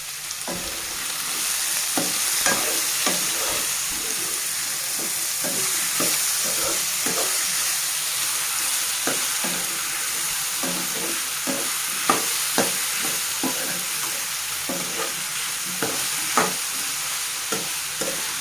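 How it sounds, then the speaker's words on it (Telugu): Bottle gourd curry with a spoonful of salt sizzles steadily in a pan while a spoon scrapes and stirs in repeated sharp strokes, close and continuous with no talking. "సొరకాయ తొందరగా ఉడకడానికి కొంచెం 1 స్పూన్ సాల్ట్ యాడ్ చేస్తాను."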